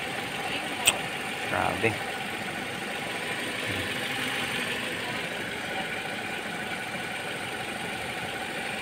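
Toyota Altis engine with a damaged cylinder head gasket runs steadily with a knocking note, close by, while a person speaks briefly over it.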